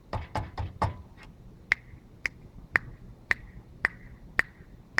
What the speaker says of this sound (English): Couple of snaps.